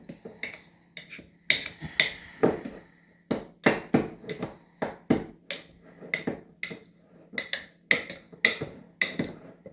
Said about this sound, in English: I'm going to stir it up. Get it all mixed in really good so that it's a nice pasty